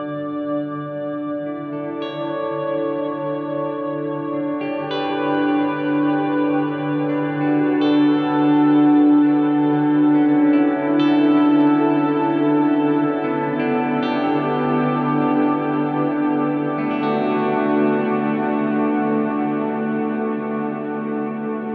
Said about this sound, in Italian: Sentite subito che siamo dall'altra parte, perché è tutto più scintillante. Dura anche molto di più la coda del riverbero.